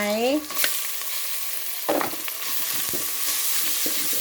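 Minced pork stir-fried in a hot pan with pounded garlic and pepper, a steady close sizzle broken by occasional scrapes and clacks of a spatula stirring the meat.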